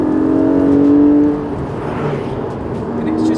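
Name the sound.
Porsche Cayman GTS 4.0 manual accelerating through a bend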